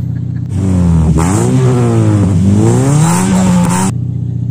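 A car with an HKS rainbow aftermarket exhaust revs up loudly and close by, its engine note rising and falling through several throttle blips over a steady rumble, with no talk.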